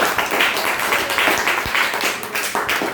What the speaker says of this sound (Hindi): ताली बजा दो एक बार इसके